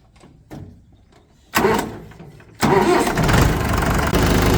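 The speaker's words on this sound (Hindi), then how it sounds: "तो अब ट्रैक्टर को जो है स्टार्ट कर देंगे जी" A tractor engine cranks and catches, then settles into a loud, steady diesel rumble close by.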